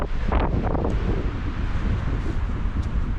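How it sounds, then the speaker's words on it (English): Strong wind buffets the microphone with a steady, heavy low roar and rushing gusts throughout on an exposed hillside at Alport Castles, with no voices. "God, it's windy."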